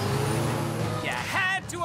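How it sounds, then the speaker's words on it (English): A cartoon garbage truck lets out a sharp air brake hiss over its rumbling engine, close and loud, with a brief squeal near the end. "No, Johnny, that's a garbage truck."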